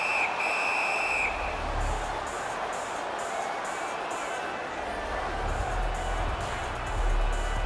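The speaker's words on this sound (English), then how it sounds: "we get a whistle" A referee's shrill whistle in the NHL 2025 hockey video game sounds in a sharp blast near the start, over a constant arena crowd murmur.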